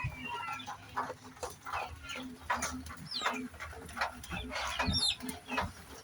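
Chickens in a brooder give soft, scattered clucks and chirps close by, with shuffling and a low background hum.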